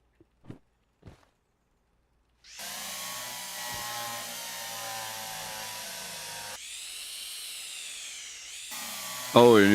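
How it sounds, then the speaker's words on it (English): Drilling from the train game Derail Valley: after a few faint clicks, a loud, steady electric whir runs for several seconds, briefly cuts out, then resumes, with no talk. "Unwell Gamer, the drilling sound is not as loud as it used to be"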